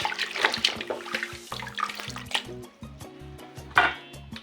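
Raw oxtail being washed in water, with splashing and dripping from running water in a sink or basin, close and steady throughout with brief louder sloshes.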